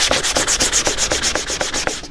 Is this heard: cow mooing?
no